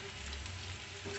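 Leftover-rice punugulu balls fry in hot oil with a steady, close, even sizzle and crackle that holds through the whole moment, with no voices.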